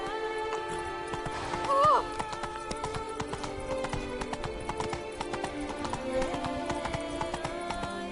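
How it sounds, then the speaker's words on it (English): Horse hooves galloping in The Witcher 3 game, a steady, close clip-clop rhythm that runs throughout, with a brief whinny early on and faint game sounds around it. "Whoa there, Roach."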